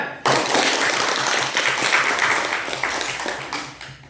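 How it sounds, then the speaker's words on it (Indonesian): A classroom of students claps hands together in a burst of applause that starts suddenly, holds dense and steady, then thins toward the end. "Tepuk tangan."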